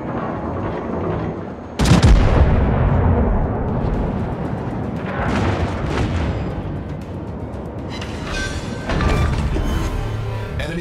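Naval artillery from the battleship Mackensen booms in a video game: three heavy, broadband blasts spaced a few seconds apart, each loud and rumbling over a continuous roar of battle.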